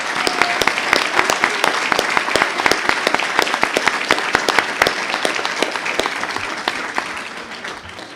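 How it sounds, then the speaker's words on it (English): A room of people at a Fox C-6 school board meeting gives Reagan Mullins a sustained round of applause, with many hands clapping loudly and evenly before it tapers off. "Reagan, will you stand up and we give you a nice round of applause"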